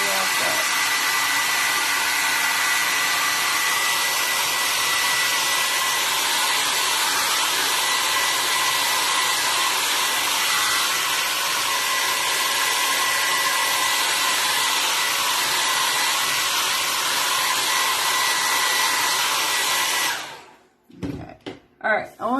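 A handheld hair dryer blows steadily and loudly for about twenty seconds to dry acrylic paint on a Santa-in-a-chimney painting, then clicks off, leaving a few short knocks.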